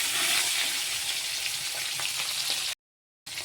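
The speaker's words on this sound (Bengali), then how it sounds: "মাছগুলো আমি ভালো করে ভেজে নিচ্ছি।" Fish fries in hot oil in a wok with a loud, dense, continuous sizzle and crackle that suddenly cuts to silence, then briefly resumes.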